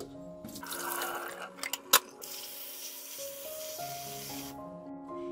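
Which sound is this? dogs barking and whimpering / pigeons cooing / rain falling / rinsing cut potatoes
rinsing cut potatoes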